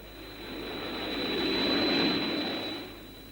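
An approaching craft's engine from a 1964 television series swells from faint to a steady roar and then eases off, a continuous jet-like drone with a thin high whine running through it.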